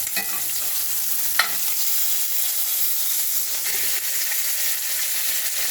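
Steak and fries sizzling hard on a stovetop, a steady close, bright frying hiss with a few sharp pops and crackles, no voices.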